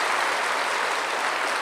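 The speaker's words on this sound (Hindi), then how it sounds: "ताली तो बजाओ" An audience applauding, a steady dense wash of clapping hands at an even level.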